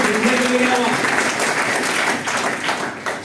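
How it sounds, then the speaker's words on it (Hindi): Audience applause at a talk or seminar, a dense steady clatter of many hands clapping at close range, with a voice briefly speaking over the start. "जोरदार ताली होना चाहिए"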